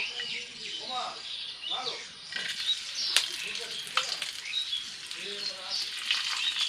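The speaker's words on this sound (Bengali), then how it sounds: "এবার আমি কিশমিশগুলো দিয়ে দেবো।" Raisins fry in hot ghee alongside whole spices such as mace, nutmeg, cloves and cardamom, giving a steady close sizzle with scattered pops and crackles throughout, a few faint bird chirps in the background.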